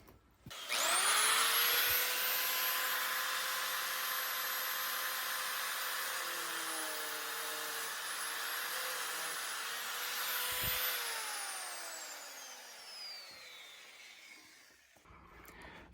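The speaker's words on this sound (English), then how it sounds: "it looks like I might have to use a death wheel." Cut-off wheel slicing metal during a 6L80 to 10L80 transmission swap on a Chevy Suburban Z71, a loud sustained whine that spins up, holds, then winds down and fades, alone without talk.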